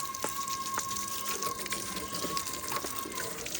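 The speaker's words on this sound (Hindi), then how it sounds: "तो देखो पानी शानी डाल रहे हैं" Water splashes and pours steadily over a motorcycle being washed, with a continuous hissing spray and occasional drips, close by, without talking.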